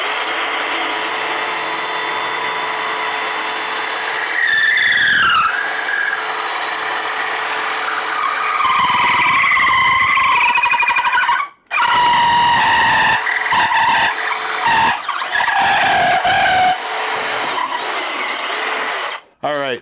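A DeWalt Flexvolt Advantage stud and joist drill boring through wood makes a loud, whining motor drone with pitch bends as it bogs under load, stopping briefly near the middle before spinning up again.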